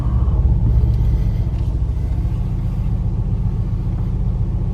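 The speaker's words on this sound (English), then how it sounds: "And let's put the car in reverse." Mercedes C63 AMG car idling in reverse while rolling over an iPhone XS Max, a steady deep engine rumble that stays close and loud throughout, with no crunch standing out.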